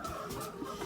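Egg-laying chickens clucking at a farm, a faint, continuous murmur of hen calls with soft rising clucks, distant and low in level, no talking.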